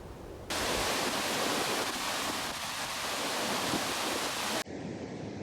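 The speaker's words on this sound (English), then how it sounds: "This is the Oxa something waterfall." An Icelandic national park waterfall roars as a broad, steady wash of rushing water, loud and constant, cutting off abruptly near the end, with no voices.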